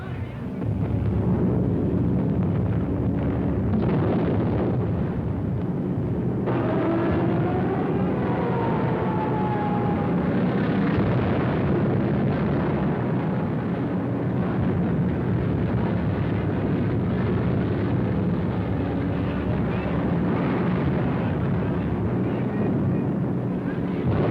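An aerial bombing raid rumbles with continuous heavy explosions and droning aircraft, a dense, loud wartime din from an old documentary soundtrack lasting many seconds.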